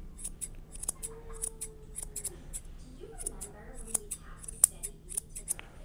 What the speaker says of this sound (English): three scissor movements. Two, three. Just going back over. One, two, three.